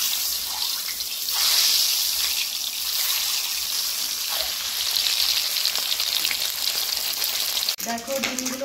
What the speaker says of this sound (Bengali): তেল গরম হয়ে গেছে, তেলে আমি লবণ হলুদ দিয়ে মেখে রাখা ডিমগুলো এক এক করে দিয়ে দিচ্ছি।